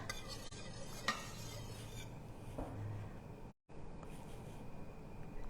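Homemade pudding whisked in a pot gives a soft, continuous scraping and stirring rhythm, faint and close, with a couple of brief clinks and no talk.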